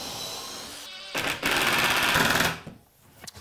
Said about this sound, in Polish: nawiercamy. Raz. Wkrętarka. Nasz konfirmat.